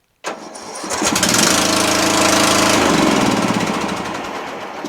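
An MTD Yard Machines riding lawn tractor with a worn starter solenoid cranks with a loud rhythmic chugging, then catches and runs, its small engine rumbling steadily close by before easing slightly; no one speaks.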